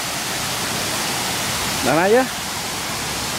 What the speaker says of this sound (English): You don't want to touch the waterfall?